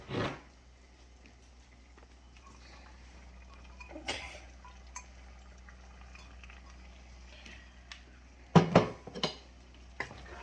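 Chunks of potato tumble into a pot of cooked meat for Puerto Rican pastelillo filling, giving a few sharp clattering knocks against the metal with quieter scraping and handling between them, close and mostly without talk.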